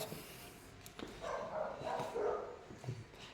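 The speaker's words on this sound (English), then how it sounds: "Sorry about the dogs." Dogs bark and yip faintly in the distance, a few scattered calls over a quiet background.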